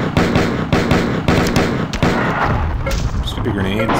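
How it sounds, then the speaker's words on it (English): Repeated grenade explosions in the video game Marathon 2 Durandal, a run of loud thumping blasts over a busy game soundscape, with a voice talking over parts of it. "Stupid grenades."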